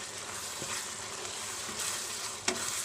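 Green sambal with pea eggplants stir-fried in a pan gives a steady close sizzle throughout, with the soft scrape of stirring and a sharper clink near the end, no talking.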